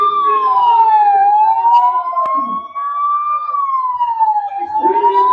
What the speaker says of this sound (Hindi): देखिए किस तरह से एम्बुलेंस को तुरंत जगह दी गई।